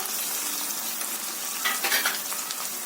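Onion, potato, carrot and beans fry in a pan with slit green chillies. A close, steady hiss of sizzling oil carries brief stirring rustles partway through.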